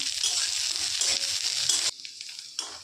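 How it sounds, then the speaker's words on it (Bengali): Chopped onion and green chili fry in hot oil in a wok with tempered spices, giving a loud steady sizzle that drops abruptly near the end and flares briefly again, with some stirring. "তার সাথে দিয়ে দিচ্ছি কুচনো কাঁচা লঙ্কা"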